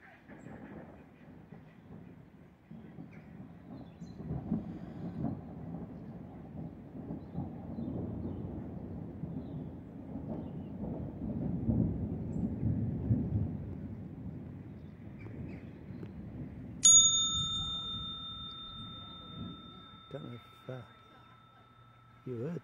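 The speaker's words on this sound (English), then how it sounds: "sitting here waiting for the rain to start because the thunder's" Thunder rumbles long and low outdoors beside a narrowboat on a canal near Skipton, a steady distant roll building and fading before a sharp electronic tone cuts in, with voices talking over it.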